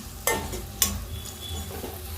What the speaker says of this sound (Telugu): సరే, బాగా కలిపేసుకుందాం.